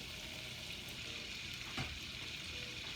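Butter browning in a pot gives a constant, dense sizzle, even and unbroken apart from one faint pop.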